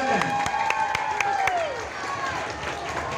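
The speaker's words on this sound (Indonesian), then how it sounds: "Berikan tepuk tangan." Applause and clapping from an audience at a children's vocal group contest for Indonesian Independence Day, with a dense crowd wash, some cheering and a sustained tone over it, under an announcer's talk.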